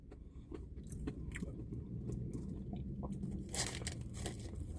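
Crunchy bites into a McDonald's hash brown, several sharp crackling chews scattered over steady low background noise, close to the mic.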